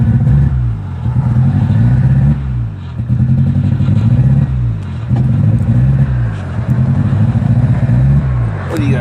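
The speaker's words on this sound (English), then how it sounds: "It sputters right out as soon as it hits 2. Got little backfires too." Rough, sputtering engine of an orange Austin Metro car running unevenly with small backfires, a loud, steady, close rhythmic chug that dips and surges throughout.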